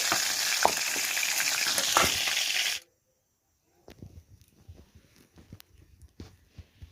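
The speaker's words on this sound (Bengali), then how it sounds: "মাছগুলো ভেজে নিলাম, উঠিয়ে নেবো সমস্ত মাছ" Small fish lightly frying in oil, a steady loud sizzle for nearly three seconds that cuts off abruptly, followed by quieter clinks and scraping.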